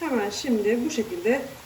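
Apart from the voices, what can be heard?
None of the usual background noises is heard.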